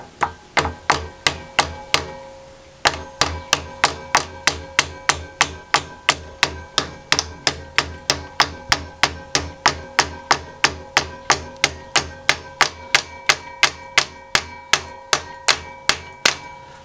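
Steady, rapid hammer blows drive a new pin into a morticer in a workshop, dozens of sharp metallic strikes in an even rhythm, close and loud, with one brief pause early on.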